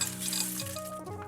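Hot air-fried Brussels sprouts poured from a pan into a bowl of sour cream dressing, giving a close, brief sizzle and tumbling rustle with a faint clink, no talking.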